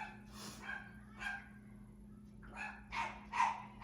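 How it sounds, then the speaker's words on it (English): Dogs bark in scattered bursts at a moderate distance, with a steady low hum underneath and no one speaking. "I can only hear myself think because of the dogs"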